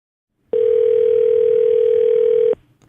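A telephone gives a single loud, steady electronic tone lasting about two seconds and then cuts off abruptly, close and clean with no voices.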